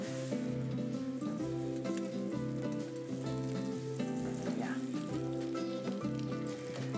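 Onion frying in a pan with meat while cooking a traditional Albanian dish from Përmet, a steady bright sizzle under background music with occasional stirring.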